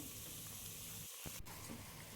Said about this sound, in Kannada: ಇದನ್ನು ಚೆನ್ನಾಗಿ ಎಣ್ಣೆಲಿ ಹುರ್ಕೋಬೇಕು